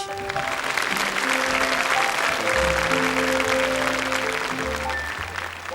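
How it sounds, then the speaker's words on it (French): A TV studio audience at the 1982 children's singing show L'École des Fans applauds steadily throughout, dense and sustained, with music tones running underneath. "tandis que le public vous applaudit"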